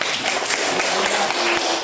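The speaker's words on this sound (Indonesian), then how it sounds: "beri tepuk tangan untuk semuanya" Classroom applause, a brief patter of many hands clapping together at close range, steady and dense for under two seconds.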